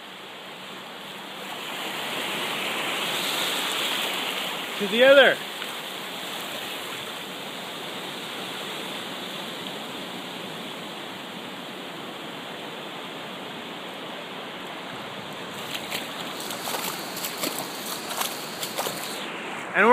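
Broadband rushing surf of ocean waves colliding from two sides, a steady wash filling the whole clip at moderate level, with a brief voice near the five-second mark and some scattered clicks and taps toward the end.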